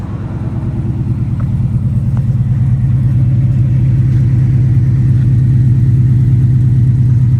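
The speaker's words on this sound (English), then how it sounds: "Alright, so here's how she sounds at idle." A 1997 Ford Expedition with a Coyote V8 swap, Cook's headers and a regular exhaust idles loud and close, a steady pulsing low rumble that firms up slightly in the first seconds and then holds even.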